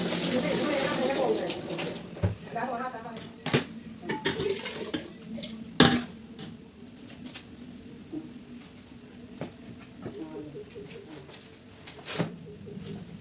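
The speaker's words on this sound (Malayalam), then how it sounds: "അരി കഴുകി അടുപ്പത്തേക്ക് ഇട്ടതിന് ശേഷം" Rice is rinsed in water in a pot, giving soft sloshing and splashing with sharp clinks and knocks of the pot at irregular intervals, close by and fairly quiet.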